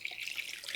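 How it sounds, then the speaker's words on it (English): Cold tap water runs from a faucet into a pint glass jar, a soft steady trickling hiss with faint splashes, brief and quiet with no voices. "I'm going to fill it with water."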